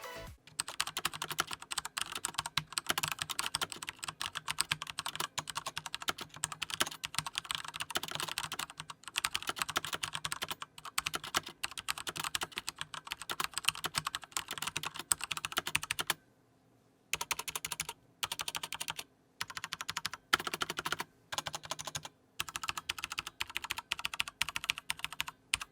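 Thermaltake X1 RGB mechanical keyboard with silver switches typed on quickly and continuously, a dense close clatter of keystrokes with a couple of short pauses, no voices.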